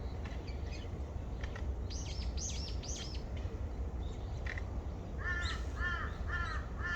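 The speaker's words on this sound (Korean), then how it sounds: "새 소리, 까마귀 소리, 까까까까." Crows cawing in short repeated bursts of three to four harsh calls, moderately distant over a constant low outdoor rumble, with faint other birds chirping between them.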